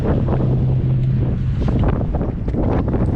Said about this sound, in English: I know it's a little windy up here, or a lot windy